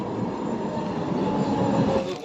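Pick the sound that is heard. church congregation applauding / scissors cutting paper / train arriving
train arriving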